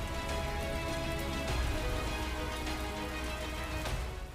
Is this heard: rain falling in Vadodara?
yes